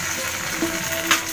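Potato pieces frying in oil give a steady, close hiss with a faint brief bubble near the end, lasting only a moment.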